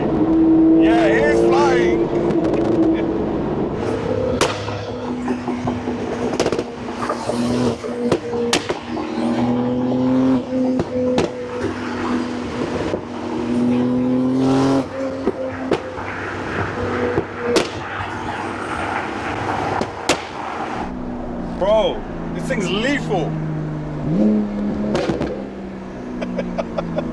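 An 1100 bhp Porsche 992 911 Turbo accelerates hard on the road, its engine note loud and sustained, rising and shifting through gears with bursts of exhaust noise while passengers talk excitedly over it.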